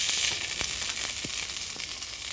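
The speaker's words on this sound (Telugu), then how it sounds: "5 నిమిషాలు బాగా వేగనివ్వాలండి" Mint leaves frying in hot oil in a pan for an Indian mint chutney, a steady soft sizzle with a few faint stirring clicks, alone without talk.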